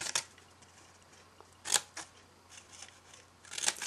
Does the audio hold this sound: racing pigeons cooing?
no